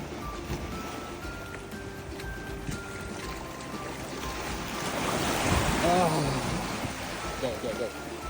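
Ocean waves wash onto a beach by a lagoon as a steady broadband rush that swells louder midway, with faint voices and other background sounds mixed in.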